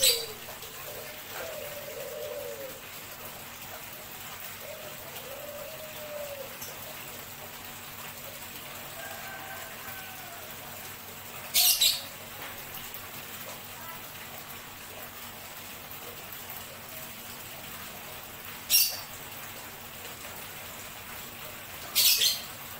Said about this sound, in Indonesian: Sekarang, kita tinggal tunggu burungnya datang.